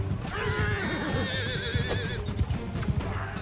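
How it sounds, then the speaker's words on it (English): Several horses neigh and whinny in Mount and Blade 2 Bannerlord, rising pitched cries repeating over a busy low rumble of hoofbeats and battle noise, fairly close and steady throughout. "there's guys on horses now"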